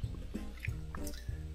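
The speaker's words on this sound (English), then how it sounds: "as it's bouncing on the ground, it almost feels as if it's alive" A water balloon dropping and bouncing on the ground, a few soft, wet thuds and squishy slaps spaced across a moment, close and fairly quiet.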